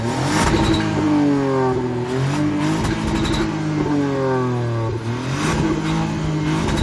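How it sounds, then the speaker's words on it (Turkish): A small three-cylinder engine in a facelifted Ford Kuga revs and accelerates loudly nearby, its pitch rising and falling across gear changes, with rough crackling pops from the exhaust. "Egzozlarının bu arada çok güzel böyle çıt çıt çıt sesi var."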